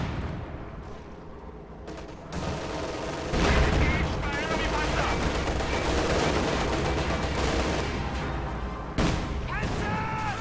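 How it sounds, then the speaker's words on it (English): KV-1 tank firing in a video game battle, loud repeated booms and bursts of gunfire over dense combat noise, with a voice talking throughout. "KV-1 takes shots."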